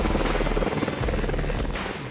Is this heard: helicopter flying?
yes